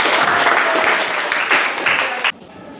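A classroom group of teachers and students bursts into loud, dense applause, many hands clapping together close by for about two seconds before it cuts off abruptly into quiet room tone.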